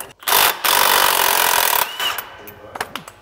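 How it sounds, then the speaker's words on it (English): A pneumatic impact gun fitted with a 15/16 socket spins a nut off a bolt while taking apart a John Deere 60 or 90 series planter row unit: a brief burst, a short pause, then a loud, steady whir for over a second. "grab a 15/16 socket on your impact gun and grab your 15/16 wrench, and then we can just run this off"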